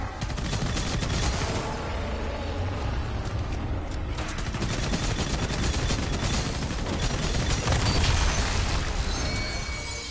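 Sustained, dense gunfire rattles nonstop in Fortnite Save the World, rapid automatic shots layered with booms and mechanical clatter, loud and close throughout with no voices.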